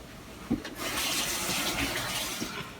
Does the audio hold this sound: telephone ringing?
no